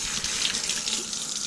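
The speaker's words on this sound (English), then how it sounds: "Get that hose in everywhere. It just washes off all the water, all the salt water." A hose sprays a steady, hissing stream of fresh water over a boat to rinse off salt water, the rushing spray continuous and close with no voices.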